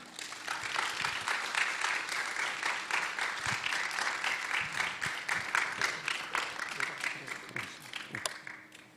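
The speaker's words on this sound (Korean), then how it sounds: "우리 목사님 나오실 때 기대하는 마음으로 우리 큰 박수로 우리 맞이하도록 하겠습니다" A Sunday worship congregation applauds to welcome a pastor coming forward, with steady, fairly distant clapping and some crowd murmur throughout.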